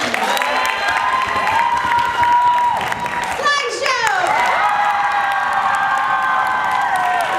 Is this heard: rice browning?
no